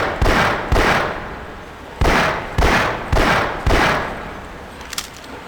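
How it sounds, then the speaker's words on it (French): Glock pistol in the Half-Life video game firing six loud, sharp shots in uneven pairs and singles, each with a short decaying tail, then a faint click near the end. "Est-ce qu'on peut tirer en rafale aussi avec le Glock?"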